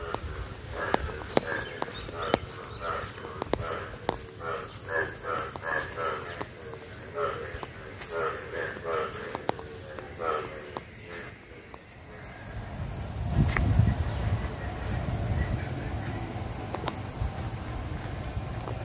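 Large hulo frogs call while mating outdoors in cloudy weather after a night of rain, with repeated croaking pulses in a steady run close by; the calls then stop and a low, rumbling noise takes over.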